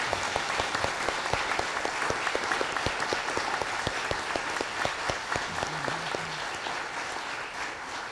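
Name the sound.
audience applause for the choir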